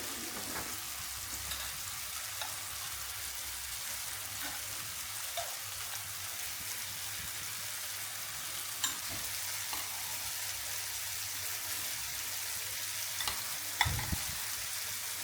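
Mushrooms frying in a pan give a steady soft sizzle while cheese and mayonnaise are stirred together nearby, with faint occasional clicks and scrapes and one louder knock near the end; no talking.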